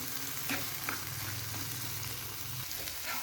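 An egg sizzles steadily in a hot pan during a quick home sehri recipe, with a spatula scraping and stirring in a few audible strokes close by.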